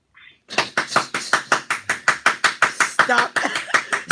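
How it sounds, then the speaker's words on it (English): A lone person claps hard and fast in a steady rhythm, roughly a dozen sharp, close slaps evenly spaced, heard in a talk-show studio with a brief voice at the very start and some talk mixed in toward the end. "Stop clapping so damn hard."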